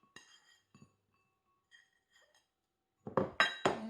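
Utensils stirring rice, chicken and vegetables with a splash of mirin in a pot for takikomi gohan: a few faint, scattered clinks, then a burst of louder scraping clatters near the end.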